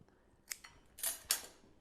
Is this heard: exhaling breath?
no